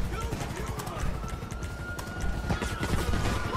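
Minigun fire in GTA 5 Online, a continuous rattling stream of rapid shots that stays steady throughout, with someone talking over it.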